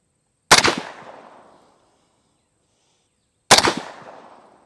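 Two sharp, loud M1 Garand rifle shots ring out about three seconds apart, each a hard crack followed by a long decaying echo across an outdoor range, with silence between.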